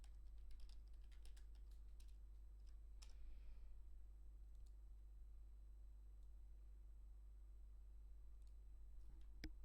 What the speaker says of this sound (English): Ignore my shitty typing.